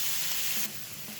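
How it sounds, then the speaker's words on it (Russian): A beef steak frying in a hot pan, a close, even crackling sizzle that drops slightly in level partway through. "И на этой интенсивности горения будем жарить наш стейк."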